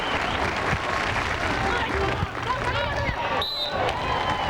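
Crowd applauding and cheering at a women's beach volleyball semifinal, a dense wash of clapping with a sharp squeak near the end.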